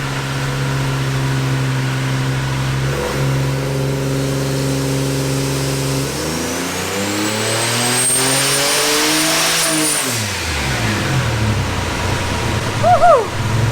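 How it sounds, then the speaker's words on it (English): A turbocharged Jeep Wrangler engine on a dyno idles, then revs hard in one long rising pull with a climbing turbo whistle before dropping back, loud and close with no talking. "let's go check out our Jeep, which is already on the dyno and it's about to do some pulse"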